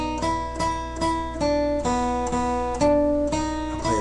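Guitar picking a slow melody of Twinkle Twinkle Little Star, single notes struck one after another with sustained ringing between them, close and moderately loud without speech.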